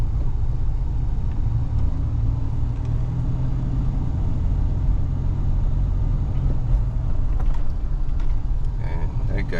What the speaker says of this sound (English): we're going to do wide open throttle.